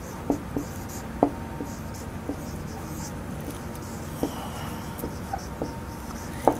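An email address being written produces sparse, light clicks and taps spaced irregularly across several seconds over a quiet background hum, with soft voice sounds faintly present.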